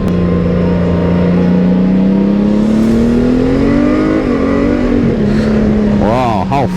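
A 2022 Honda Gold Wing 1800 DCT motorcycle in sport mode accelerates hard, its engine note rising steadily with brief dips at gear changes, loud and close under wind noise, with a voice speaking near the end.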